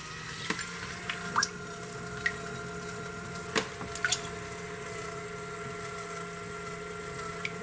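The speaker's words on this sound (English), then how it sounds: "Nothing like priming a little tiny pump." A small off-grid shower pump with air in the line is primed, producing a faint steady hum with scattered drips, gurgles and small sharp clicks.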